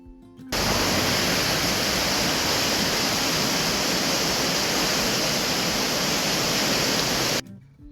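Steady, loud rush of a rain-swollen stream, a dense continuous roar of fast-flowing water that starts abruptly and holds constant until it cuts off near the end.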